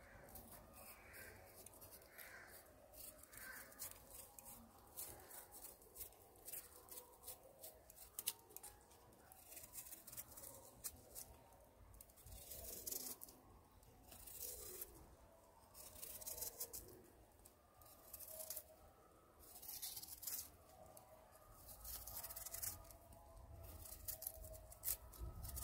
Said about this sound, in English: We're going to peel up the yam right now.